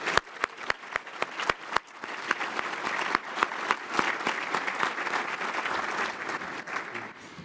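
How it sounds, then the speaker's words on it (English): An audience at the State of Akron Public Schools event applauds a school jazz ensemble with a full, sustained round of clapping. A few sharp, close claps stand out at the start before the sound merges into a thick, steady ovation. "let's give a round of applause to Bucktown COC Jazz Ensemble under the direction"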